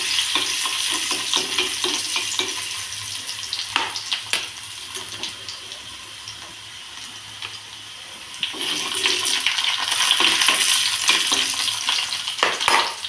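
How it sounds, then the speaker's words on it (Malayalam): Chopped garlic and ginger frying in oil in a pan on a stove, giving a steady close sizzle and crackle that swells louder in the second half, with no talking. "ഇനി ഇത് നമ്മൾ പാത്രം അടുപ്പിൽ വെച്ചിട്ടുണ്ട്, അതിലേക്ക് എണ്ണ ഒഴിച്ചിട്ടുണ്ട്. അതിലേക്ക് കുറച്ച് വെളുത്തുള്ളി ഇഞ്ചി"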